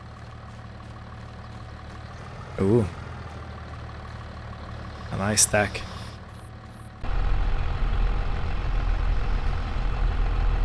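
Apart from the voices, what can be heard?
John Deere tractor engine idling, from a farming video game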